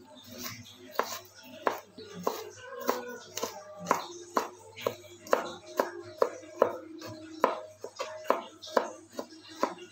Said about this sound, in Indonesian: Kita cincang halus ya teman-teman.